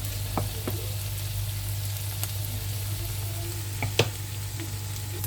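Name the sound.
potatoes frying in oil and butter with garlic and onion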